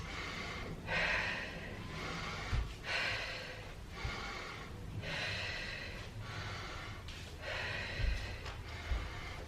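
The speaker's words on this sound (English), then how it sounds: "Okay, nice deep breaths." Deep, steady breathing in a workout recovery pause, with slow rhythmic inhales and exhales repeating about every second or so, close and fairly soft, with no talking.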